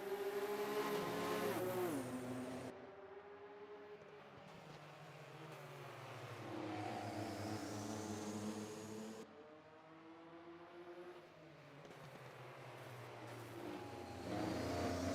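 Race cars roar through the 1984 Brands Hatch 500 km endurance race, engines rising and falling in pitch as they pass and shift, loud and continuous with a sharp drop as one car fades before another approaches.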